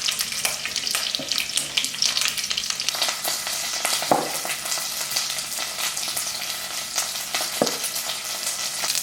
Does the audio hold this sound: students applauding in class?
no